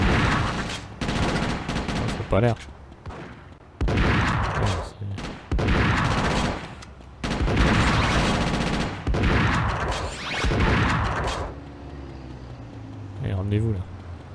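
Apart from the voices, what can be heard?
double-barrel shotgun gunfire in GTA Chinatown Wars video game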